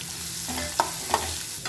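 Two chopped onions are dropped into hot oil with dried red chillies and curry leaves for a Kerala egg curry, giving a soft steady sizzle broken by two sharp clinks of a spoon stirring against the pan.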